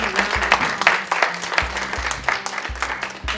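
An audience at a forum applauds its panelists with dense, sustained clapping that fills the room at moderate loudness, with a few dull low thumps underneath.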